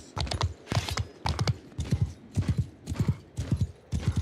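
Horses of mounted horse archers in a medieval battle video game trot along in rapid, rhythmic clip-clop hoofbeats, close and steady, with no talking.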